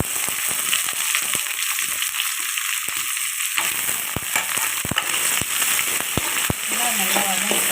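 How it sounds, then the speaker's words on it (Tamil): Garlic, curry leaves and onion sauté in hot oil for fish kulambu, a steady close sizzle broken by sharp spatula scrapes and clacks, the frying thickening and crackling louder partway through. "பூண்டு கருவேப்பிலெல்லாம் வதங்கிட்டு அதுக்கு நம்ம வெங்காயம் போட்டுக்கலாம்"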